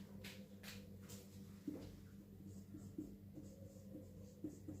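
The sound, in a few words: writing on a board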